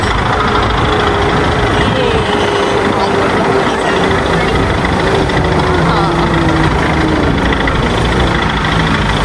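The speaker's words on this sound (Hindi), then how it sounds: "शुक्र है अल्लाह का हमारी गाड़ी इजीली जा रही है ऊपर" A car with its engine working steadily as it climbs a snow-covered mountain road between Kalam and Swat, heard from inside as a continuous loud drone with rumbling road noise and people talking over it.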